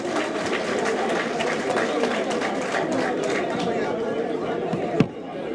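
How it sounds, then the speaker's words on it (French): Audience applause mixed with crowd chatter at the official launch of the Yewwi Askan Wi political coalition, a continuous dense wash of clapping and voices with a sharp knock near the end. "Je vous demande d'applaudir ces leaders que je vais citer."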